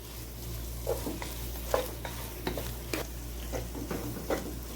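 Semolina roasting on low heat for milk suji halwa, stirred with a utensil, gives a quiet background hiss marked by repeated light scraping and tapping strokes against the pan, with no talking.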